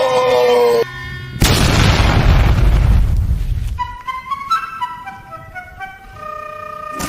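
A loud bomb explosion in a video game, a sudden deep boom that rumbles and fades over a couple of seconds, set between tonal horn-like game sounds and music.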